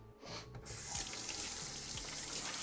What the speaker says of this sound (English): I'm going to rinse off my knife